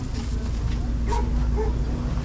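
A dog gives a couple of short, mid-distance barks and yips over a steady low rumble of background noise and traffic at the Osh bazaar, Kyrgyzstan, among caged poultry and rabbits.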